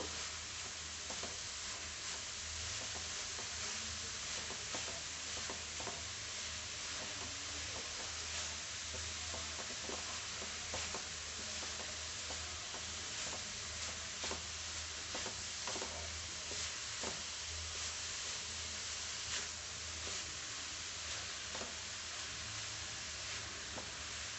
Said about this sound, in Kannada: ಈಗ ತುಪ್ಪದಲ್ಲಿ ಚೆನ್ನಾಗಿ ಫ್ರೈ ಮಾಡ್ಕೋಬೇಕು